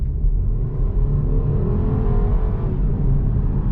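A 2020 BMW X2 sDrive 28i accelerating hard in sport mode after a downshift, its engine holding a loud, steady throaty roar with road rumble, heard from inside the cabin.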